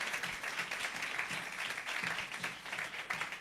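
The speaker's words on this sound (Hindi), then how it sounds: "तो जोरदार तालियां बजाइए फिर यीशु के जलाल के लिए।" A congregation at a Hindi-language church service breaks into sustained, loud applause, a dense continuous wash of many hands clapping with rising and falling swells and no speech over it.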